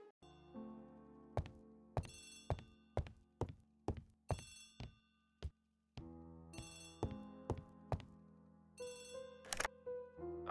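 An old-style telephone bell rings in repeated bright bursts, a steady pattern of rings with short pauses between them, clear and close with no talk.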